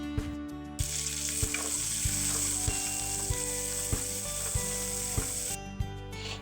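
Green chillies and chopped onion sizzle and fry in hot oil in a pan, a bright continuous hiss punctuated by regular scraping knocks of a stirring spoon, close and alone with no voices.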